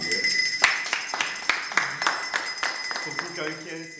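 Rhythmic group clapping celebrates a sports club's win in a clubhouse, a series of evenly spaced sharp claps over a steady background tone with voices mixed in.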